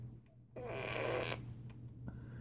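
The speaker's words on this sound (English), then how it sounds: "this is a Minion fart gun" A Minion fart gun toy lets out one buzzy, sputtering fart blast lasting under a second, fairly quiet against a low background hum, followed by a fainter short burst.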